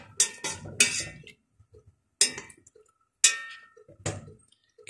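Three or four large tomatoes dropping into a cooking pot and being stirred, sharp wet clatters and scrapes in separate bursts with quiet gaps between them.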